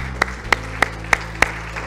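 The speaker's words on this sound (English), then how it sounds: "give the Lord a hand clap of praise" A church congregation gives a hand clap of praise: five sharp, evenly spaced claps about a third of a second apart, ringing through the room over a steady low hum.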